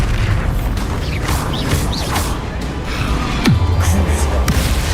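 Bombarda spell explosions in Hogwarts Legacy come as booming blasts with whooshing magical effects, loud and close, amid a busy combat soundscape.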